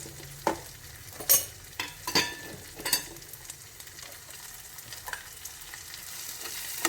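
Chopped onions sizzle in hot oil in a pan for palak paneer gravy, with a steady soft frying hiss broken by several louder clatters of a spoon stirring against the pan.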